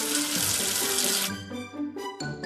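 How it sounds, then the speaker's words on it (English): Tap water pours steadily from a faucet into a sink while soap is rinsed off a toy letter, a loud continuous splash that breaks into shorter gushes toward the end, with a light musical tone beneath. "Wash away the soap with water."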